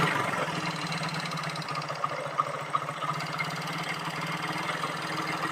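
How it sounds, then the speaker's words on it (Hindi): A Hero Glamour motorcycle engine runs steadily during carburettor tuning, a close, even mechanical putter with a faint rhythmic knock throughout and no talk. "तो यहाँ से इस तरीके से हम RPM को तेज़ करेंगे।"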